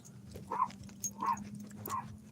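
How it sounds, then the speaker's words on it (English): A dog gives three short whimpering yips at a steady pace, close and moderately loud over a low steady hum. "That's a dog."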